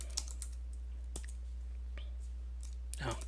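Keys clatter on a computer keyboard in short irregular bursts of close, crisp clicks, a quicker flurry at the end, over a steady low electrical hum.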